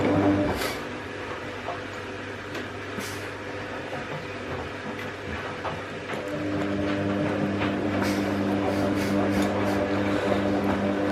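A washing machine winding down from a 1200 rpm spin cycle, giving a steady mechanical hum with faint rattling and clicking that grows slightly louder and shifts in tone partway through.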